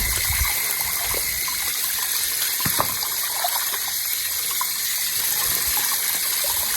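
Wild sweet potatoes dug up from a hillside being washed in water, a steady running and splashing wash with small knocks and trickles throughout.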